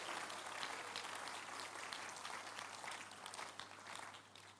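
A church congregation applauding at a prayer service, a dense, distant wash of clapping that holds steady for several seconds without speech.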